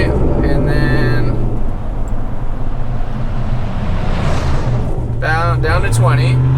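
A supercharged 2020 Chevrolet Silverado Hennessey Goliath 800 pickup roars along at speed during brake bedding runs, its steady engine and road drone loud and continuous throughout, with wind buffeting and a person's voice speaking over it.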